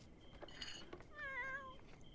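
A cat in the video game The Sims 4 meows: a short wavering meow near the end, after fainter chirpy cat sounds, all fairly quiet over soft game background.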